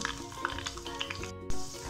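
A garlic and mustard seed tadka for dhaba-style masoor dal sizzles and crackles in hot oil, a steady close frying hiss with sharp pops and a stirring scrape near the end, no voices.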